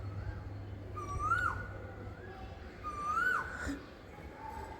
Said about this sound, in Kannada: ಕೋಗಿಲೆ ಕೂಗ್ತಾ ಇದೆ.